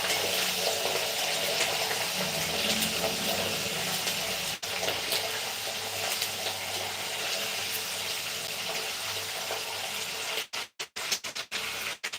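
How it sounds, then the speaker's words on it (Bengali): A kitchen tap runs steadily in a home kitchen for most of the clip, a loud broadband rush that holds constant before breaking up and cutting off with a few gurgles near the end. "আমার জলটা তো ছেড়েছিলাম"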